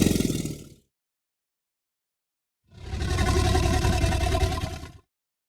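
Alligator recording used as Allosaurus sound design material: a short low guttural burst, a pause, then a longer, loud, rumbling growl-like roar.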